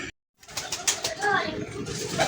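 Pigeons in a loft coo softly, with a brief flutter of flapping wings, heard close after a moment of silence.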